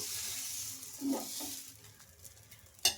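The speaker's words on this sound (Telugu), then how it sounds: "మళ్ళీ ఇక్కడ పిండి అయితే వేసుకొని ఇలా స్ప్రెడ్ చేసుకోవాలి దోశను" Buttermilk sponge dosa batter spread across a hot pan makes a soft, faint sizzle with a few gentle scraping strokes, ending in a short sharp clink.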